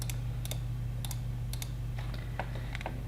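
Computer keyboard keys are tapped in short clustered bursts of soft clicks, evenly spaced at close range over a steady low hum, with no talking.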